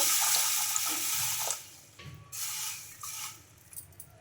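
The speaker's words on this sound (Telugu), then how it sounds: "ఇప్పుడైతే మంచి నీళ్ళు అయితే వేసుకోవాలండి" Water runs and splashes steadily as fresh water is poured into a bowl of soaking sago and green gram, then breaks into shorter pours and trickles toward the end.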